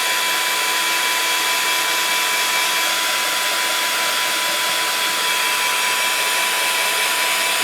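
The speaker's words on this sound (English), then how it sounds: "So I blast it with my heat tool." A handheld craft heat tool blows hot air over embellishments on a mixed-media MDF bottle, giving a loud, constant whooshing roar with a faint motor whine. The sound runs unbroken throughout, with no speech.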